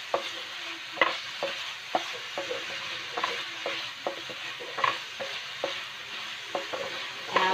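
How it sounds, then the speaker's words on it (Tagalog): Meat and onions fry in a pan while being stirred, giving a soft sizzle under a regular series of scraping clacks from the spoon, close and fairly quiet, with no speech. "Sinahalo-halo ko ng maigi ang mga karni, onions."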